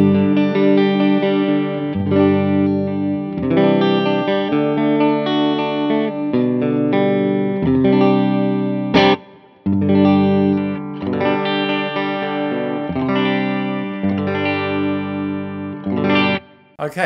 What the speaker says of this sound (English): you're going to hear my Synergy amp with a Friedman module